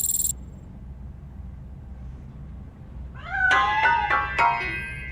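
A cat hiding inside a piano meows in the video game RoboCop: Rogue City, several close, insistent meows and yowls after a quiet stretch.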